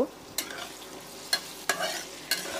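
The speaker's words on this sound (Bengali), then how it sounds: "পেঁয়াজটাকে একটু লাল লাল করে ভেজে নেব" Onions fry with cardamom, cinnamon and warm spices in a quiet, low sizzle, broken by four sharp spoon knocks against the pan at uneven intervals.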